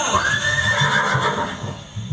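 A loud, close horse neigh, Chetak, the warhorse of Maharana Pratap, a long rising-then-falling whinny with faint hoof clatter beneath, heard alone.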